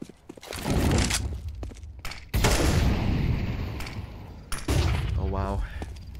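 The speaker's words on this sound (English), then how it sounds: "Jell has the AK now." Rapid AK rifle bursts in Counter-Strike 2, loud and close, firing in several sharp volleys with short pauses between them, mixed with game noise.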